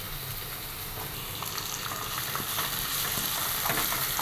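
Chopped tomato frying with green chillies in a pan for a sardine curry, giving a continuous bubbling sizzle with light stirring scrapes, close and fairly quiet, no talking.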